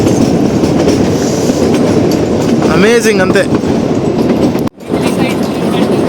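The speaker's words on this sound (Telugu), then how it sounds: "మన ట్రైన్ అయితే ఇప్పుడే బ్యూటిఫుల్ టర్నింగ్ అయితే తీసుకుంది" Kalka–Shimla toy train rounding a curve on its mountain line, with loud continuous wheel rumble and clatter and a rising squeal midway, then a sharp brief drop in the noise; someone speaks briefly over it.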